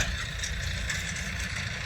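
Steady idling drone from a tractor near a farm plot, low and constant with a faint clattering edge, heard up close without any voices.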